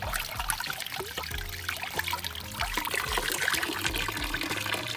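Water trickles and pours steadily into a baby doll, a continuous splashing dribble with no voices.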